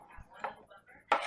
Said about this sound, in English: I can dice these up better